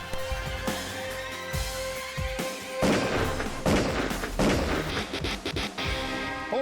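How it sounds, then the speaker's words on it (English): Gunshots in a reenacted robbery-at-gunpoint chase, several sharp cracks scattered over a dense, loud background of music and effects. "She's shooting."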